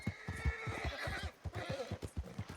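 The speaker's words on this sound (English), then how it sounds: "¿Por qué está tan molesto mi caballo?" A horse in the Red Dead Redemption 2 video game neighs and whinnies in repeated agitated bursts, close and loud, with hoof clip-clop mixed underneath.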